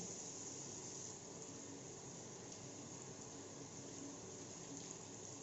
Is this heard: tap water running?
yes